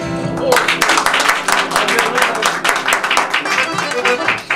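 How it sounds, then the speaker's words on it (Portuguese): Audience applause for Roberto Leal on a weekly chat program: a dense, steady burst of many hands clapping that starts after a brief quiet moment and carries on loud and sustained. "Vamos aplaudir Roberto Leal!"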